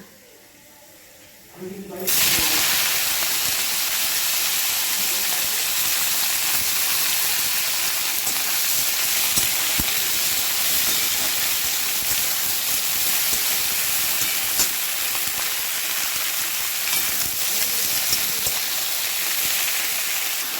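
Chopped banana-stem vegetables drop into hot oil tempered with panch phoron and break into a loud, sustained hissing sizzle that carries on steadily, with someone speaking over it.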